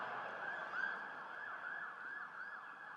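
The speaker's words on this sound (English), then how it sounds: "Let the sirens go by." A wailing emergency siren rises and falls repeatedly over steady traffic noise, fairly distant and continuous with no voices.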